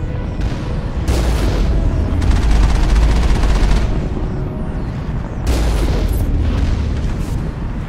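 Gunfire during Mass Effect gameplay: loud, dense automatic bursts with heavy booming impacts, two long stretches of rapid fire separated by a short lull.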